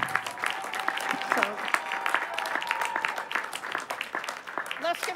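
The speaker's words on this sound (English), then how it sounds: "let's give her one more round of applause" Audience applause fills a graduation ceremony for Master of Social Work and nursing graduates, steady dense clapping from a large crowd throughout, with a voice speaking briefly over it.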